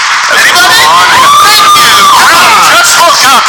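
A packed Schmoedown crowd cheers, whoops and shouts in a dense, continuous roar that stays loud and close throughout, with scattered voices and children's shrieks rising above the din.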